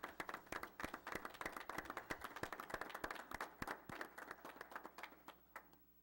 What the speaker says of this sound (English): We'd like to acknowledge our staff with applause